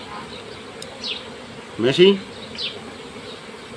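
Honeybees at an opened beehive, a soft steady buzzing hum with a brief louder burst near the middle, under a short spoken word.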